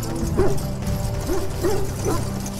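Hounds in a Dragon Age Origins kennel, some of them sick from darkspawn blood, give several short yips, whimpers and barks spaced across a couple of seconds. They are close and fairly loud over a steady background hum.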